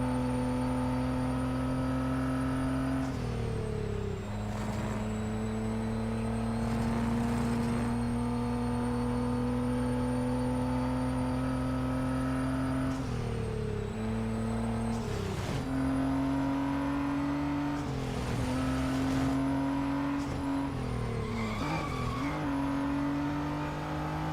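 A Nissan Skyline R33 NISMO race car engine in the Real Racing 3 video game drones continuously at high revs through a Grand Prix lap, with several brief drops and rises in pitch as it shifts gears.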